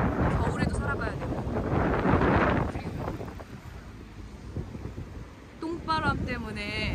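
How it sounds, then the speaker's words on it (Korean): Strong gusty wind buffets the microphone at Sokcho beach in Korea, a loud rushing roar that surges and eases, with a person talking through it near the end. "지금 바람이 굉장히 한 번에 확 부는 거고 막 그래서 머리가 날린데"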